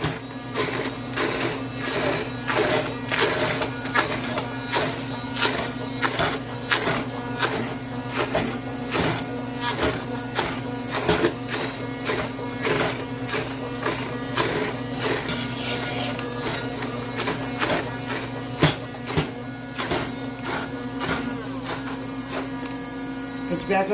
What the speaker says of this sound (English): I will put this in a food processor too.